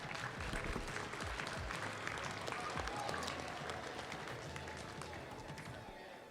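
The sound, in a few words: applause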